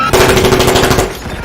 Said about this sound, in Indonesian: Ketegangan mulai meningkat ketika suara tembakan terdengar di dalam pesawat.